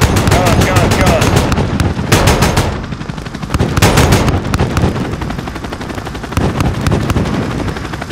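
Aircraft guns firing in Call of Duty Modern Warfare: loud, dense bursts of rapid machine-gun fire with sharp repeated cracks and booming impacts, continuous over a rumbling engine-like background.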